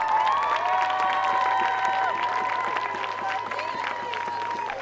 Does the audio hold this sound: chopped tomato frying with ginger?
no